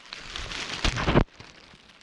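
Rain falls steadily at a high mountain Shiva temple, a broad hiss of drops hitting surfaces that swells for about a second before cutting off abruptly, leaving a softer wash behind.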